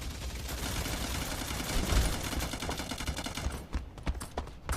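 Sniper rifle fire in the first-person shooter Forefront, dense rapid bursts of gunfire and crackling impacts in a loud, busy mix, ending in a run of sharp separate cracks.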